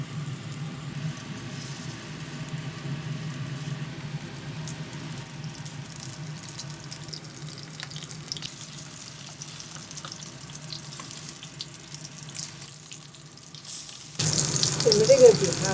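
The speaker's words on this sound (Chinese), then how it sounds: "锅中加油， 搁入1勺调好的原料。" Seafood pancake batter goes into an oiled pan, producing a quiet, continuous sizzle over a low hum that grows brighter and louder near the end.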